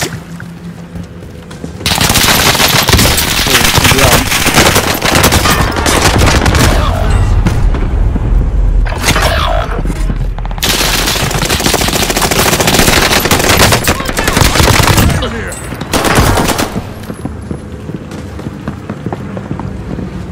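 Loud, sustained bursts of machine gun fire fill most of the stretch, with short pauses between long rattling volleys and a quieter tail at the end.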